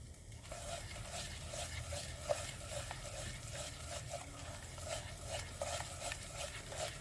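A spoon stirs flour roasting in melted butter in a pan for cream of spinach soup, making faint, soft, regular scraping strokes over a low, quiet sizzle, with no talking.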